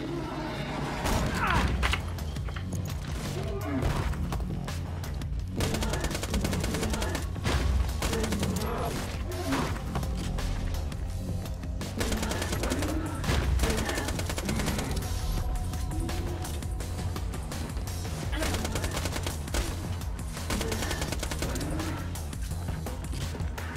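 Rapid gunfire from a faster weapon in the video game Borderlands 2 runs continuously at a dense, steady level under game music and mechanical clatter, with no pause across the whole stretch.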